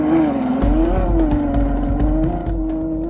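A 2012 Ferrari FF with four-wheel drive works a snowy road course, its engine droning loud and close with a rising, wavering revving note and faint tire noise on snow.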